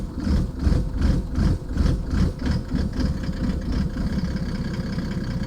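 An engine that had not been started for several days and has a couple of bad spark plugs fires up and runs, a rough, pulsing low rumble with an uneven idle, close and without voices.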